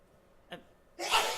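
A short sharp inhale precedes a sudden, forceful sneeze, close and loud against a quiet room.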